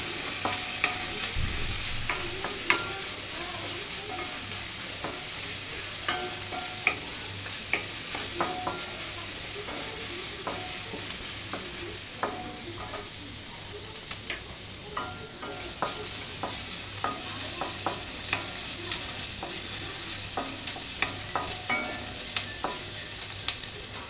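Chopped onion and garlic fry in a pan while being stirred, a steady sizzle broken by frequent scraping clicks of the utensil over a long stretch, with no voices.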